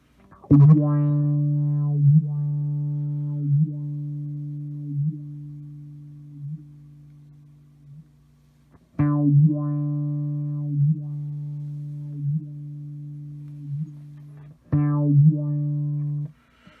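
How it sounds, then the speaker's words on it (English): Empress ZOIA pedal producing a resonant synth tone, loud and buzzy, played as three sustained notes with stepped pitch pulses inside each, the resonance straining the speaker, with short gaps between notes. "the resonance is causing my speaker to protest"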